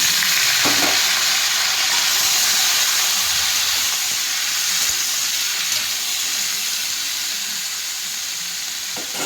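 Bottle gourd fries in oil seasoned with dry chilli, bay leaf and cumin, producing a loud, dense, continuous sizzle with a couple of faint stirring knocks, close and steady throughout.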